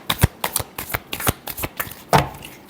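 Tarot cards being shuffled by hand, a close, crisp series of rapid riffling bursts in an uneven rhythm, with no talking over them.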